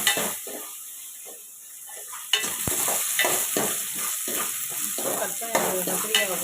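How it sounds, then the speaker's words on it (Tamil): Cut eggplant sautéing in a hot pan, a steady sizzle and fry broken by repeated scraping stirs of a spoon against the metal, close and clear. "கட் பண்ணி கத்திரிக்காய் வந்து நல்லா இது மாதிரி வதக்கணும்"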